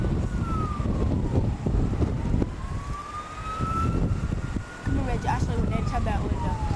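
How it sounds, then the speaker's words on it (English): Police car sirens wailing through New York streets on September 11, 2001, rising and falling tones sweeping up and down over heavy low traffic and city rumble, moderately close, with a second siren layering in toward the end. "I'm going to be quiet so you can hear the sirens."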